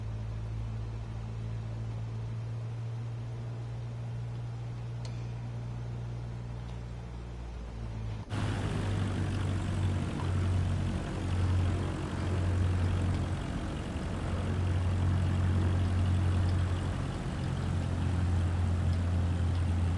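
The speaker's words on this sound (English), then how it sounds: "Now slowly taxi onto the runway and align the plane with the center line." A propeller plane taxis onto a runway with a steady low engine drone that swells sharply partway through into a louder, rougher roar with fluctuating pitch, continuous and close.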